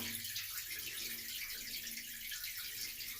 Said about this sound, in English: And the water's going to drain right out that.